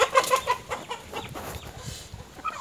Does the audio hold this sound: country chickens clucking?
yes